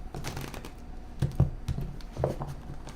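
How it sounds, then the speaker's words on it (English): Quick papery riffling and soft tapping of a tarot deck being shuffled up close, in a quiet room. "One more shuffle."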